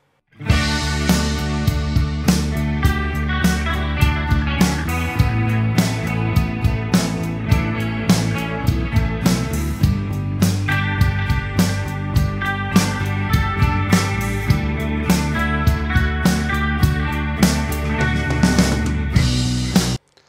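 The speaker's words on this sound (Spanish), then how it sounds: "te voy a habilitar la guitarra donde estoy pasando por los circuitos del WA2A," A clean electric guitar passes through a Warm Audio WA-2A optical compressor and plays a continuous rhythmic part over a band backing track, loud and full, without talk.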